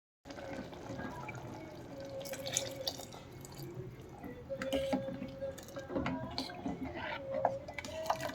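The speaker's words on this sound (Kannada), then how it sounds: "ನಮಗೆಷ್ಟು ನೀರು ಬೇಕಷ್ಟು ನೀರು ಸೇರಿಸ್ಕೊಂಡು ಒಂದು ನಾವು ಕನ್ಸಿಸ್ಟೆನ್ಸಿ ಮಾಡ್ಕೊಳ್ಳೋಣ" Water trickles and drips steadily into a pot of sprouts sambar, a thin splashing pour running continuously at close range with no talking.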